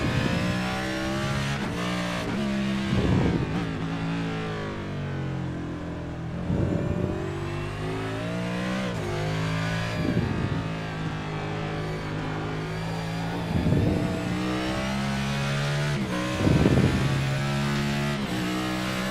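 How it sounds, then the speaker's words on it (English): Race cars at an IWM Cup Series race at Coronado drone steadily and close by, with engine revs climbing and dropping and several louder surges as cars pass. "You can hear the revs jump, but when that car runs over that little bit of that bump"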